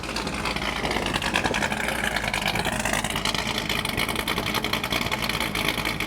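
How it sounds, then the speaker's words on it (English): Exhaust of a 1986 Chevrolet C10 pickup with a 502 GM crate engine, a continuous loud throaty rumble idling and burbling steadily throughout, with no talk over it. "Listen to the exhaust."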